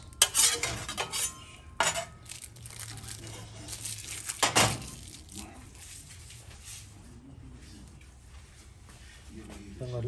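A spatula scrapes and clatters against a pan while flipping a grilled cheese sandwich, with sharp metallic scrapes early on and softer sizzling and shuffling afterward; a person talks intermittently.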